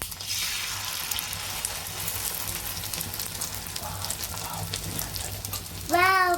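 Egg omelette (andyachi poli) frying in a pan, a steady broadband sizzle lasting throughout, with a brief burst of higher chirping tones near the end.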